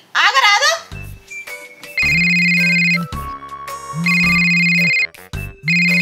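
Phone ringtone playing in repeated melodic bursts, each a loud sustained chiming tone lasting about a second with short gaps between, at the start of a Telugu comedy film scene, close and clear with no talk over it.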